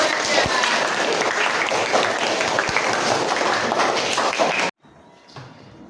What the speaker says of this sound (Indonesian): beri tepuk tangannya dulu dong